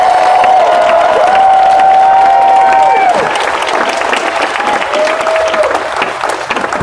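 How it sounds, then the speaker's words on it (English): Loud, sustained applause and cheering from a large outdoor crowd at a Hollywood Walk of Fame ceremony for Weird Al Yankovic, with whistles and shouts rising over dense clapping. "How about a big round of applause for Weird Al Yankovic?"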